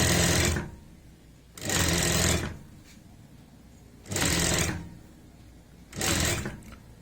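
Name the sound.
sewing machine stitching a neckline strip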